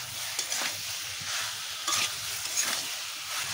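Fried potatoes are tossed and stirred in a pan with spices for a jackfruit and chicken curry, a continuous close sizzle broken by soft scraping strokes.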